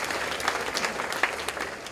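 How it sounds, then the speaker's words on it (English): Audience at an annual meeting claps steadily for about two seconds, a dense, even patter of hands with a few sharper individual claps standing out, no voices over it. "Let's give Russell a round of applause"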